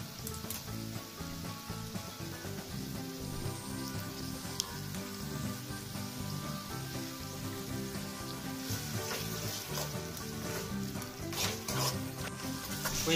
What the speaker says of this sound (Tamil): இப்போ தக்காளி நல்லா வதங்கிடுச்சு. அடுத்து நம்ம தயிர் ஆட் பண்ணிக்கலாம்.